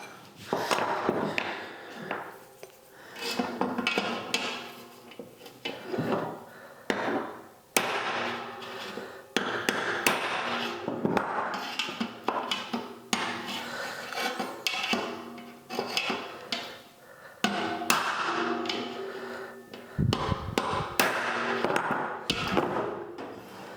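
Repeated metallic hammer blows on a buckled, pothole-damaged wheel rim ring out in an irregular series, loud and close, with clanging resonance between strikes.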